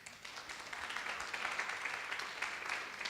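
Audience applause at a conference, a steady even wash of many hands clapping, moderately distant and sustained for a few seconds without a break.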